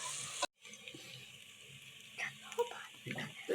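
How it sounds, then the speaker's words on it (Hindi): Green chili, ginger and garlic paste fry in a pan with a soft, steady sizzle after a brief cut. Occasional clinks of stirring break into the sizzle, and a person talks over the cooking. "सब्ज़ मिर्च, अदरक, लहसुन तीनों चीज़ें अच्छे से फ्राई की हैं।"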